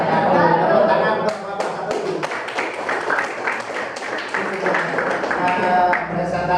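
A classroom of students in an Islamic religious education lesson claps for group 1, a dense, steady patter of many hands that starts thin and quickly fills out, close and sustained for several seconds.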